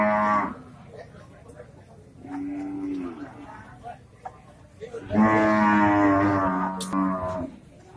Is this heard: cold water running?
no